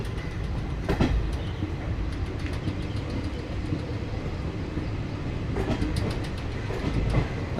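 A passenger train hauled by a WAG-9 electric locomotive rolls past on an Indian railway line, giving a continuous rumble with rhythmic clickety-clack wheel beats over the rails.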